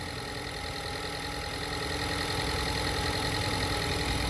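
A 2013 Ford Escape 2.0 engine idling with a cylinder misfire, heard up close as a steady, dense mechanical rumble with a faint uneven pulsing throughout.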